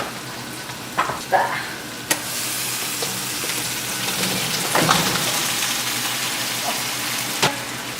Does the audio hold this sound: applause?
no